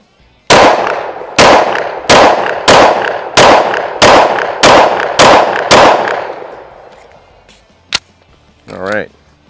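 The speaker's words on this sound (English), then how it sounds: "First, we're gonna start here with our XDM Elite. And 10, well, let's do about 10 rounds." A Springfield XDM Elite 10mm pistol fires about nine loud, close shots in a steady rhythm, each crack trailing off into outdoor echo, followed by one last isolated shot and a short voice.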